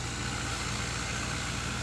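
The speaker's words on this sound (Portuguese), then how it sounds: "O homem tá passando com o trator ali que ele tá limpando." A tractor works nearby while clearing ground at an open family outing spot. Its engine gives a steady, continuous rumble and drone at moderate distance, unbroken and without talk.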